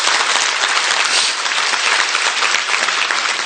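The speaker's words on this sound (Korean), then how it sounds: "박수 한번 치워주세요." Dense, loud audience applause fills a lecture hall during a motivational success-story talk, holding steady and continuous from start to finish with no speech over it.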